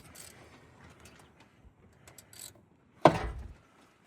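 A bad Jeep engine is cranked over by hand with a ratchet, giving one short loud mechanical burst of grinding and clicking after a stretch of quiet workshop background with faint scattered noises.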